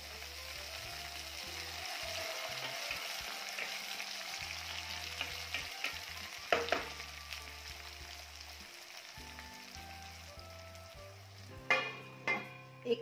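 Chopped tomato frying with onions in a pan for a potato curry, a steady soft sizzle throughout with a few sharp clinks and scrapes near the middle and end.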